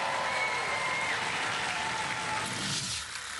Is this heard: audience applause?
yes